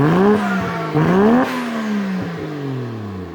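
A Mitsubishi Lancer Evo VI Tommi Makinen edition at a Japanese auction lot, its engine revved close by in several quick blips that rise and fall, then settle into a steady idle drone.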